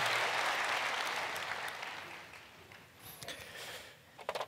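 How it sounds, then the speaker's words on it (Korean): A church congregation claps loudly at first during a sermon, the applause gradually thinning and fading, with a few scattered claps near the end. "박수로 좀 축복해 주세요"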